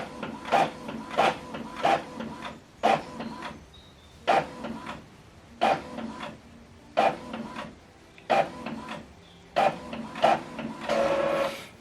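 An Epson printer runs a double-sided print job, feeding the page back through with a steady run of rhythmic mechanical thumps and whirring passes, close and clear with no talking.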